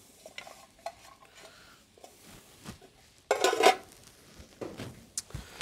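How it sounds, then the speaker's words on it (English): Onions and celery sweat in melted butter for a cream soup, with a soft low sizzle, scattered utensil taps and one louder burst of stirring near the pan. "I have my butter mostly melted. I'm gonna go ahead and add in my onions."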